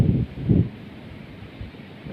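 Wind gusting through reeds at a pond fishing spot for wild crucian carp, with two low rumbling buffets early on and a steady soft rustle afterward, close to the microphone and with no talk.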